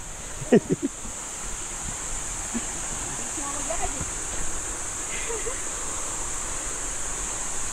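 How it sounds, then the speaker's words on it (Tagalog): Steady rush of falling water at Talipanan Falls, Puerto Galera, Philippines, during the dry season with low water flow, moderately distant and fairly soft, with a brief voice near the start. "Ito po yung falls."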